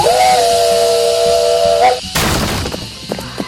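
A steam locomotive's whistle gives one long steady blast of about two seconds, followed by a loud burst of hissing steam with clatter and commotion at a big station during a bull scare.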